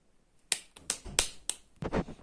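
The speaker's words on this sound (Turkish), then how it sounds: "Şap, şöyle şöyle alkışla." A child claps hands at home, about five sharp separate claps at an uneven pace, close and fairly quiet, with no talking.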